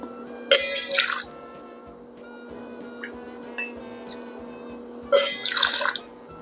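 Bourbon poured from a bottle for a passionfruit sour cocktail, two short gurgling pours about five seconds apart, close and clear, with a few faint clinks between them against a quiet steady hum.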